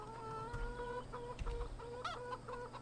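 Hens in Farming Simulator 17 cluck steadily at a farm coop, with overlapping calls and short rhythmic clucks at moderate volume, no talking.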